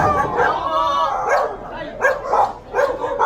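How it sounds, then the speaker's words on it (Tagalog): A dog barks back in several short yelping bursts from a little way off during a street clearing in a Philippine barangay, with a person's voice mixed in among the barks. "Sumasagot yung aso eh."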